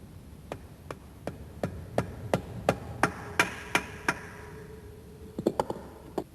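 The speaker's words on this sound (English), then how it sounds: "Fit the oil pump and drift in a new oil seal." A new oil seal is driven into a K Series engine's oil pump with a drift, heard as about a dozen evenly spaced, sharp metallic hammer taps followed by a quick cluster of lighter blows, close and clear.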